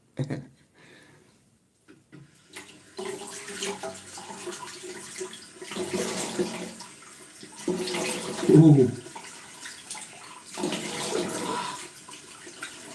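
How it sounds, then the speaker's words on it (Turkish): Cold tap water runs and splashes as a face is rinsed after a shave, a steady broadband wash with a louder splash burst near the middle, close and alone without talk. "Soğuk suyla duruluyorum."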